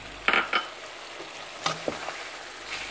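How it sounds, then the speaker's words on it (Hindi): Green chillies fry in a chicken karahi, giving a soft continuous sizzle with a few sharp stirring clinks and scrapes up close. "बस 3 मिनट तक और इसकी भुनाई करनी है"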